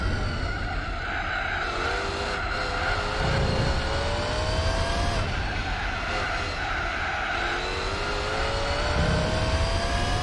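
A race car in Gran Turismo 4 revving hard through gear changes with rising and falling engine tones, tires skidding and squealing through corners, continuous and fairly loud.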